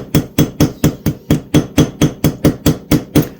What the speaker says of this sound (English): just the weight of the hammer is all you need. Just lift it up and drop it and go around like this.